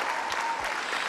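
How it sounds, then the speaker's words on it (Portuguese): A church congregation applauds strongly in a dense, continuous wash of clapping, with a faint tone in the background. "Aplauda o Senhor mais forte!"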